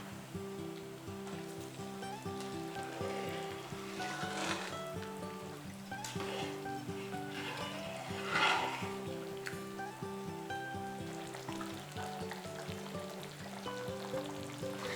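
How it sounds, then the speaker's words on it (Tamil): A pot of mutton biryani with seeraga samba rice bubbles and simmers with a soft, continuous sizzling boil, faint and close, under steady background music. "ரெண்டு நிமிஷம் நல்லா கொதிக்கட்டும்"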